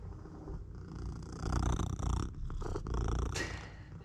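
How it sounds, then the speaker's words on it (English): A cat purrs loudly and steadily right at the listener, its rhythmic rumbling rising and falling with each breath. "Listen to that purring."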